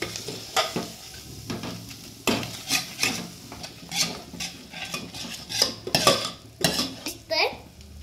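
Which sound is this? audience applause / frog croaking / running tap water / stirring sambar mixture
stirring sambar mixture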